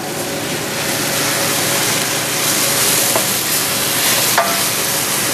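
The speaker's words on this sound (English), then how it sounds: "We're gonna put our berries into it and deglaze it with wine." A pan of snow goose meat deglazed with wine and berries, loud continuous sizzling and frying with occasional stirring clicks and scrapes, close up and steady throughout.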